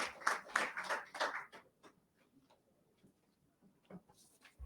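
A small audience claps faintly at a launch event in Liberia: a short burst of scattered applause at the start, then it quickly fades to near silence with a few isolated claps.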